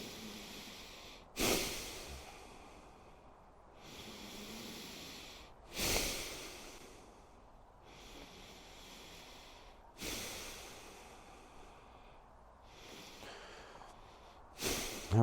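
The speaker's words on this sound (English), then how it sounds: "I will kind of exaggerate my breaths just a little bit so you can hear me on video" Deliberately exaggerated deep breaths during guided breathwork come close and clear, with sharp audible inhales roughly every four seconds followed by long, softer airy exhales in a slow, even rhythm.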